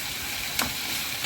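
Water spinach (kalmi greens) fries on a high flame, a steady close sizzle with one brief stir or clatter midway and no talking.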